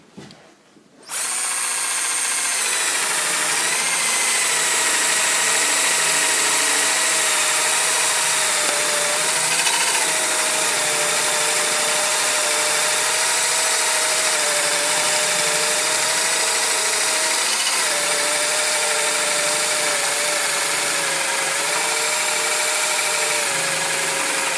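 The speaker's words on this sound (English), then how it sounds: "19mm spade bit straight through this piece of pine" Cordless drill driving a 19mm spade bit straight through a piece of pine, a loud continuous high whine with grinding wood texture that holds steady for over twenty seconds after a sudden start.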